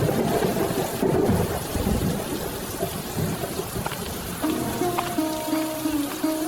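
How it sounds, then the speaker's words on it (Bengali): Steady heavy rain pours down with deep rumbling thunder rolling underneath, loud and continuous throughout, with no voices. "ঠাকুমা, আজ তো বৃষ্টি নামছে, তুমি কি এই বৃষ্টির ভেতরে সত্যিই হাটে যাবে?"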